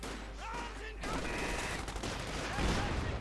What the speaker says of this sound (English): 50 cal machine gun.